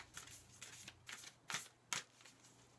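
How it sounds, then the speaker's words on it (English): Oracle cards being shuffled and pulled from a deck: soft, quiet riffling and flicking in about five short bursts, close but faint, with no talking. "I'm going to pull 2 Oracle cards"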